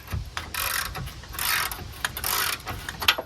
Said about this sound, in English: I'm going to use my socket extender.